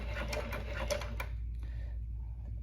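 A Weaver 205 sewing machine back stitching makes a quick, close run of rhythmic mechanical clatter that stops abruptly, leaving a low steady hum.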